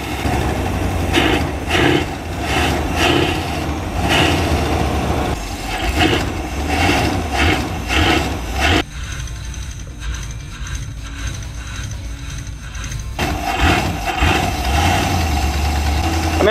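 An RV's engine idles and revs during a nighttime demolition derby, with rattling mechanical clatter and pulsing engine noise that drops into a quieter idle midway before surging again.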